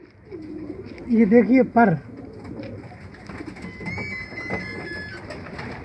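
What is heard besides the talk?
pigeons cooing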